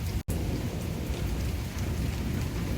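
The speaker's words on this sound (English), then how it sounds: "I'll continue to watch a little bit more of this storm." Heavy rain pours steadily through a thunderstorm, a dense continuous roar with low rumbling, broken only by one brief gap near the start, with no voices.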